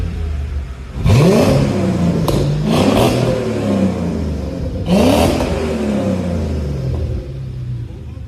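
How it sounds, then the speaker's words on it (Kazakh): A 2002 car with a 5-litre engine revs up sharply three times, its exhaust rising to a loud roar each time and then falling back to a steady, rumbling idle between the blips, recorded close by with no talking. "Выхлоп сезсеңер азыр."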